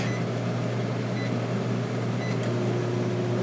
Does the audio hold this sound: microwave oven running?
yes